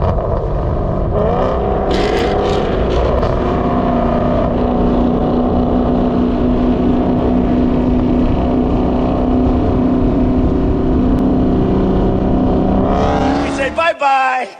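A Chevrolet Camaro SS engine drones loud and steady at speed with sustained harmonic whine, wind roar mixed in, then cuts off abruptly near the end with a brief clatter.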